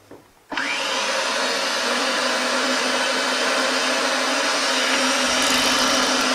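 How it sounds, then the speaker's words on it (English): Ridgid 975 roll groover grooving pipe starts up abruptly after a brief quiet moment, then runs as a loud, steady grinding machine whine that holds constant to the end with no talking. "Now we're going to proceed with grooving the pipe until your depth adjustment knob bottoms out on the top of the housing of the"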